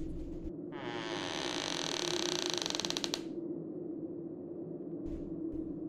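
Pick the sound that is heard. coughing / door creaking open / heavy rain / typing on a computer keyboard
door creaking open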